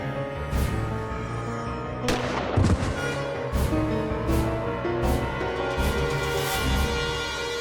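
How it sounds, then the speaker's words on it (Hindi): Gunshots fired at a man named Manoj ring out as several sharp cracks and booms at intervals over a dense dramatic music bed, with no speech. "इन्होंने मनोज पर गोली चलाई"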